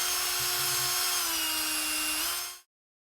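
A part spinning in a drill chuck and worked like a lathe, producing a steady high whine with a faint sanding rub near the start that runs evenly before abruptly stopping.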